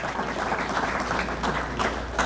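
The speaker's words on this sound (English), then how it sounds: "so round of applause for the University of Michigan." A dinner audience at a coaches' awards and hall of fame event claps for a national champion university team, producing dense, continuous applause with a slightly pulsing rhythm, fairly close and moderately loud.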